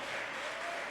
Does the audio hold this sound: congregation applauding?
yes